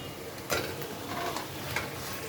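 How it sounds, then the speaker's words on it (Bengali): Boiled potatoes tipped into fried spice paste for vegetarian aloo dum give a soft wet slump and stir, with sizzling rising around two pulses, near and moderately loud, no voices. "এবার আমি আলুগুলো ঢেলে দিচ্ছি সব"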